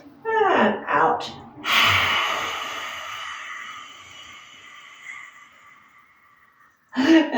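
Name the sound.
long yoga breathing exhale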